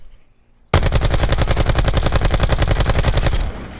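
Sustained automatic assault rifle fire in the shooter game Black Ops 4: a loud, close burst of rapid, evenly spaced shots lasting about three seconds, then cutting off, with no talking.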